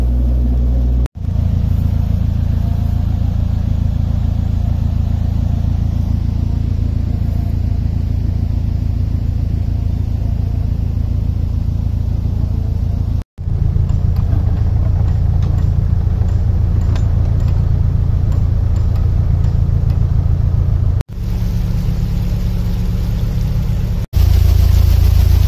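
A canal boat's diesel engine chugs steadily and loudly throughout while working down the Wigan lock flight, a low continuous rumble broken by a few brief gaps as the gearbox shifts between forward and reverse.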